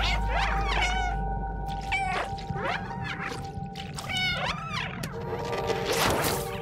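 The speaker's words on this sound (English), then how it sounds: "You ready for the meowing?" Several cats meow repeatedly in the video game Stray, with overlapping high, wavering cries in quick succession over a steady background hum, close and fairly loud.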